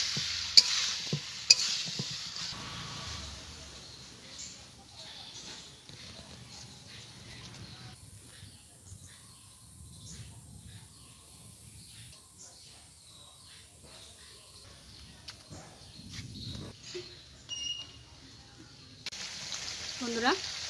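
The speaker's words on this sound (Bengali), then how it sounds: "মশলার সঙ্গে চিকেনটাকে আমি ভালো করে কষে নেব।" Marinated chicken is sautéed with spices in a pan, producing a faint, low sizzle with occasional soft stirring scrapes, quieter and more distant than the sharp clatter at the start and end.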